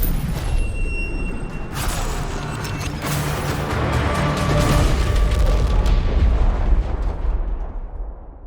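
Firecracker explosion in a video game: a loud, sustained crackling roar with bursts layered over a rumbling low end, filling several seconds before fading out, with no talk.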